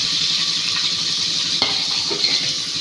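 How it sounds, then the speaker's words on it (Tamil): Onions sizzle steadily in a hot pan while a utensil scrapes and stirs, with a couple of brief clinks against the pan. "உள்ளே போட்டு நல்லா கிண்ட வேண்டியது தான்"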